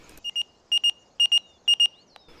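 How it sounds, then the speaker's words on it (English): A phone message notification in the video game Farming Simulator 19 chirps in four quick pairs of bright electronic beeps, crisp and close, with no talking over it. "And there's a message on my phone."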